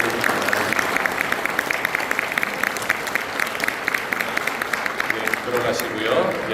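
A church congregation applauds an elder at an installation service, with sustained, rhythmic clapping from many hands that stays loud and close. A voice speaks over the applause.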